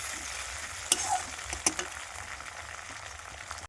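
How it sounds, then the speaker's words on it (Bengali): Raw tomato stirred into a frying spice paste in a pan, a continuous sizzle broken by a few sharp spatula scrapes and clinks, close by. "এবার দিয়ে দেবো কাঁচা টমেটো, দিয়ে ভালো করে নেড়ে নেবো"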